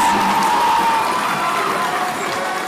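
Crowd cheering at a boys volleyball spirit night game, a loud, sustained roar of many voices with shouts and whoops lasting the whole few seconds.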